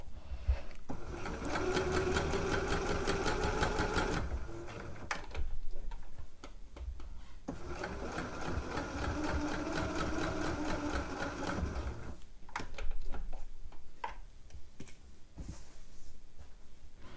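A sewing machine stitches along the bottom of a dress pocket in two long close bursts of rapid rhythmic ticking, separated by pauses filled with fabric handling and scattered clicks, with no one talking.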